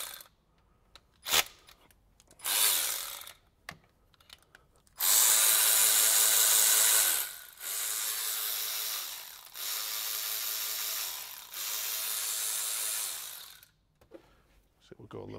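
A cordless ratchet spins out cylinder head bolts on a 1996 Toyota 4Runner engine, loud close whirring bursts of a few seconds each, separated by short pauses and clicks.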